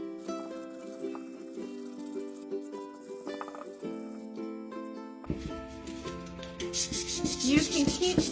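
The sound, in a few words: sanding a painted beach jar with sandpaper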